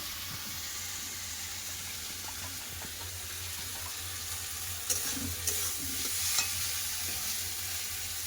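Water added to a pan of green banana and potato curry, a steady sizzle and rushing wash with a few clinks and a hissing swell partway through, close and without talk.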